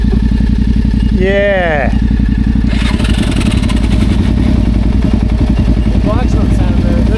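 A motorcycle engine runs roughly at close range with a loud, uneven chugging idle and a brief rising rev, while people talk briefly over it.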